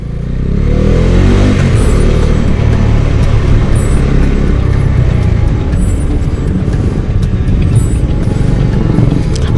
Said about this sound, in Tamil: ஆரம்பித்து விட்டது டிராஃபிக், அதில் பூந்து போக போகிறான் இந்த டாமி